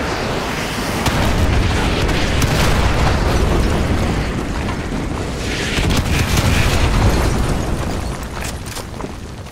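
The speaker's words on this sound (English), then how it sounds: "Fire mission received. Artillery inbound." Artillery strike in the video game Modern Warfare 2 rumbles on as a dense, continuous roar of overlapping heavy explosions and booms, loud and unbroken for the whole stretch with no talk.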